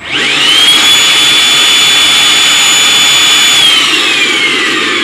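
A Milwaukee M18 cordless vacuum on a 5.0Ah battery spins up with a high whine and runs at a loud, steady roar close by, then begins winding down near the end.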